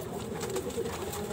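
A young male pigeon of the Kamouni type gives a soft, low coo, brief and close, muffled by steady background noise.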